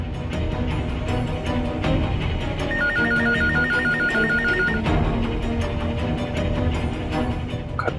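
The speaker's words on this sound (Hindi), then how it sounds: "कोई बात नहीं, घर पे कॉल करता हूँ, लैंडलाइन पे उठा लेगी।" A landline telephone in a home rings with a repeating electronic trill over a busy, dramatic music bed, the ring pulsing steadily for a couple of seconds in the middle of the scene.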